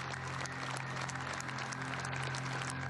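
Faint, quiet applause in the UN Security Council chamber, a brief, even patter of clapping under a low room hum.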